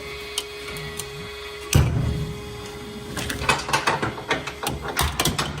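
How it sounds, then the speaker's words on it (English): A ratchet strap is worked in a farm hoof-care setting, giving a sharp click then a run of rapid mechanical clicks and ratcheting ticks, close and fairly loud over a steady background hum. "Find that ratchet strap. You hear that?"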